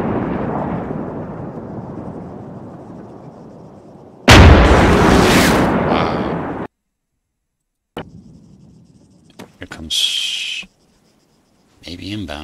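Artillery fires in a video game: a sudden loud blast with a rumbling tail, followed after silence by scattered softer pops, clicks and short bursts in the distance, with no talking.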